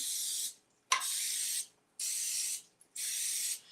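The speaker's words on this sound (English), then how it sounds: "we're just gonna spray this well because we want our egg white chips to come out clean" Crisco cooking spray hissing onto a pan in three long bursts with short pauses between, close and steady, plus a brief click of the nozzle.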